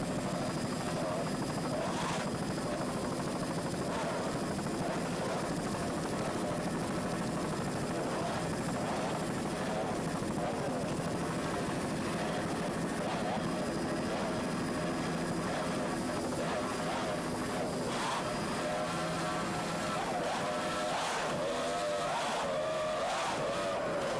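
A racing powerboat driven by three 2.5 EFI outboard engines, competing in a 1993 offshore race, roars loud and close in a continuous high-revving drone with a commentator talking over it.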